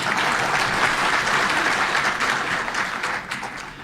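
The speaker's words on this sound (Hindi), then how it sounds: "तो ताली तो बजाने दीजिए।" A crowd bursts into applause that starts loud and dense and holds steady before easing off slightly at the end, many hands clapping at once.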